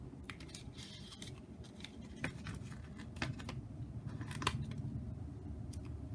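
Scissors snip through a sheet of vellum paper in a few crisp, close cuts with soft crinkling and handling noises in between, over a low steady room hum.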